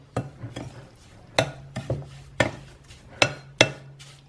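Aadun snack ingredients, a Nigerian Yoruba treat made with palm oil, being mixed together in a bowl, giving a series of sharp scraping and clattering strikes about every half second, close and moderately loud, with no talk.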